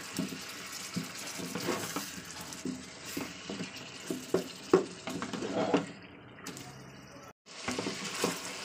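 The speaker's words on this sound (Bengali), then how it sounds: "তো চলুন এবার মশলাটাকে ভালো করে তেলের সঙ্গে কষিয়ে নিচ্ছি" Spice paste and meat being fried and stirred in oil in a home kitchen for a Bengali onion-kalia recipe, irregular scraping stirs and clinks over a soft sizzle, with a short dropout near the end.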